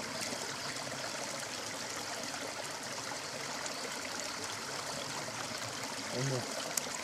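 Small shallow stream trickling and babbling steadily nearby, a continuous wash of water noise with a brief low thump near the end.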